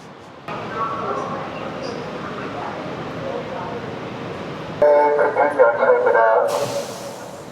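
A train on its tracks in Korea gives a steady rumbling roll for several seconds, then a louder clattering, rattling stretch as it moves, with a person talking over it.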